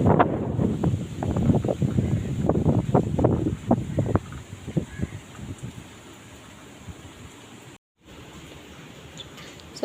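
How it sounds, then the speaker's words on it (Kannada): Strong wind sweeps a backwater and beach by a boat dock near Hangarkatte and Malpe, buffeting the microphone in heavy gusts at first, then easing to a steadier, softer rush. "ಅಷ್ಟು ಗಾಳಿ ಇರುತ್ತೆ ಇಲ್ಲಿ"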